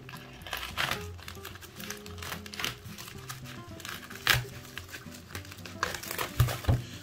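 A sharp blade slices through thick packing tape on a shipping package, giving soft, irregular crinkling and rustling close by, with a few sharper snaps of tape against fairly quiet surroundings.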